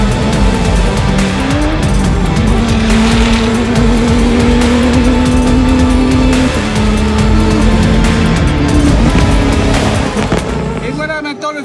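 A Dakar Rally race car roars past at full speed, its engine loud and sustained with tire noise, the rising and falling pass filling the whole stretch before cutting off abruptly at the end.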